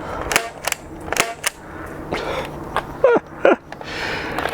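An Amazon toy blaster shot on its high setting, firing a quick series of sharp, snappy pops that ring out loud and close, with a few breathy bursts and faint room noise between the shots.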